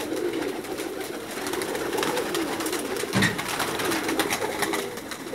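Pakistani breeder pigeons coo and murmur steadily amid a busy flock in Jeddah, with wing flutters and a brief low thump near the middle; no one speaks.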